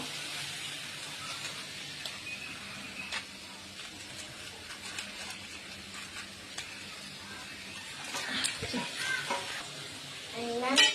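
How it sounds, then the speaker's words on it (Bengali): Potatoes frying in a kadai while Maggi fry is being prepared, a steady soft sizzle and hiss with occasional stirring clatter, fairly quiet and continuous throughout. "তো আলুটা ভালো করে ভেজে নেব, তারপরে ডিম পেঁয়াজ একে একে সব দেবো।"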